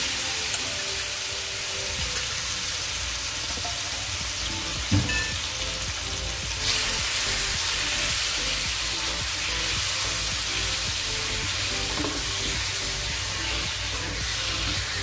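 Marinated chicken sizzles steadily in two tablespoons of hot oil in a kadai wok, a continuous close crackle with a few brief clinks partway through.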